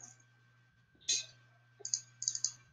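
A computer mouse gives sharp, close clicks, including quick paired double clicks, over a faint steady electrical hum.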